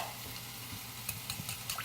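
Unsweetened applesauce and almond milk being stirred together in a bowl, a continuous close wet swishing with small scraping clicks of the utensil.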